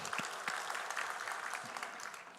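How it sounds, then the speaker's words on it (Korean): Scattered handclaps ring out in a church gathering, a small group clapping unevenly and moderately close, with faint murmuring underneath. "누군가 박수 치면 우리 박수 치십시다."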